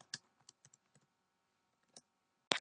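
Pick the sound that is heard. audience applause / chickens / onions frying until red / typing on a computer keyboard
typing on a computer keyboard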